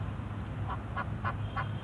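Several short nasal quacks from ducks, evenly spaced and moderately distant, over a steady low background hum.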